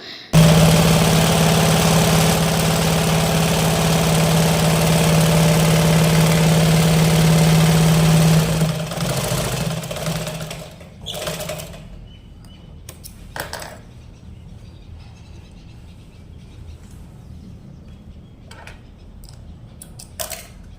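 Sewing machine stitching a frill into fabric, a loud, close, steady motor hum for about eight seconds that winds down, followed by quieter scattered clicks and handling taps.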